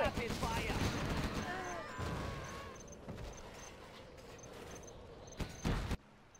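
Rapid weapon fire from a spinning-barrel Chinese Battlemaster tank in the real-time strategy game Command & Conquer Generals, a busy battle din with sustained bursts, brief pitched unit chirps and a loud final blast before cutting out.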